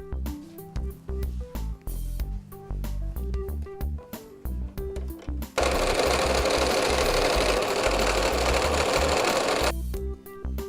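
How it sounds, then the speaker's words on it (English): Home sewing machine running stitches across a fabric apron waistband, starting in short bursts with pauses and then running in one long continuous stretch before stopping, close and steady with no talking. "Sew across the waistband with a 1/4 inch seam allowance."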